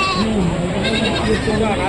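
Young goat kids at a goat market bleating in quick, wavering cries, close by and fairly loud, one call running into the next.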